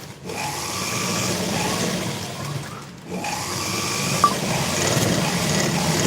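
A sewing machine stitches fabric while a blouse is sewn, a steady continuous whirring hum that breaks briefly partway through and then resumes at the same even pace.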